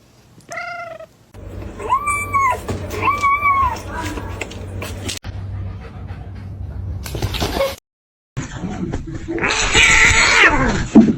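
A kitten meows and cries repeatedly in high, wavering calls, close and loud, with purring and rustling noises between them and a louder burst toward the end.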